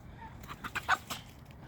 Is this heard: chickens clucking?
yes